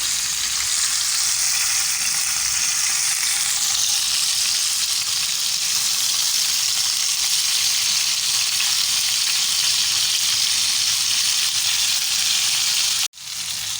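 Chicken shashlik skewers fry in a pan with a loud, dense, continuous sizzle that holds steady and close for the whole stretch, then cuts out briefly right at the end, with no voices.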